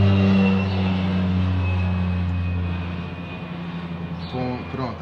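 A propeller airplane drones steadily overhead, loud and continuous through most of the stretch, slowly fading toward the end, with a brief sharper noise near the close.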